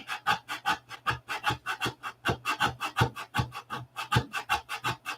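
Rhythmic back-and-forth rasping of hand-sanding a high spot on a wooden surface at a workbench, about four quick strokes per second, close and steady.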